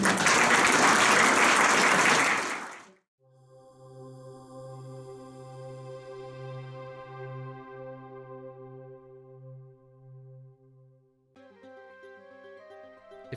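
Audience applause at a 2022 UFO panel in Roswell, a dense burst of clapping for about three seconds that stops abruptly, followed by sustained musical tones.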